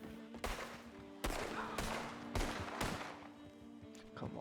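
Gunfire from a Red Dead Redemption roleplay session: several loud, sharp shots ring out at irregular intervals, each cracking over a steady background hum.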